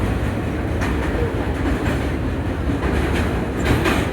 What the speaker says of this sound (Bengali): তো আমরা ট্রেনে করে যাচ্ছি